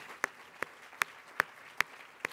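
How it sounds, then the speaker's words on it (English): A single person claps slowly and evenly, about six distinct sharp claps spaced roughly a second apart over a quiet room background at an event. "Let's give a round of applause to all the outliers who are in the room,"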